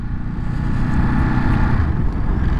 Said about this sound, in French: Avec cet échappement qui pétarade d'origine.